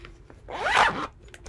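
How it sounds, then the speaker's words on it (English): A big zipper is pulled in one quick, loud rasping sweep, close by and alone, with faint handling noise before and after. "Oh, big zip."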